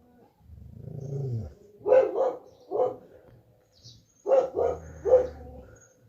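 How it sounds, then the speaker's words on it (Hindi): A dog in a snowy mountain village barks at another dog, giving a low growl followed by two close bursts of sharp barks, a pause, and then three more, fairly near and with no talk over them. "रॉकी भौंक रहा है और तो रो रहा है टाइगर को देख के।"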